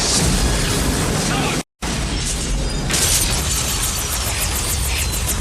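Rocket launcher blast and explosion in a Batman audio drama, a loud roaring burst cut by a brief dropout, then crackling, debris-like rumble that trails on.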